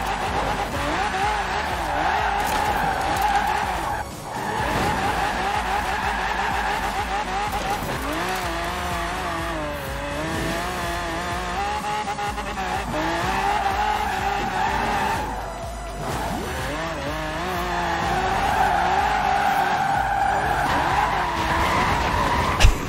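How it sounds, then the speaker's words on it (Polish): Tires skid and squeal continuously during a drift in Forza Horizon 4, with a Quartz Regalia car's engine droning loudly underneath, the screech wavering and surging almost without pause, briefly dipping twice. "ale driftuje się bardzo przyjemnie"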